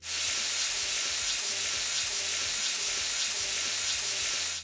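Liquid cooks down in a pan of pineapple fried rice, making a continuous bubbling sizzle with a fine hiss and rapid popping throughout, close and steady without talk.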